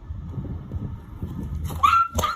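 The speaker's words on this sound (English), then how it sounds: "Is that your dog?" A dog gives a short, high whimpering yelp and a sharp bark near the end, rising over a low rumble of background noise.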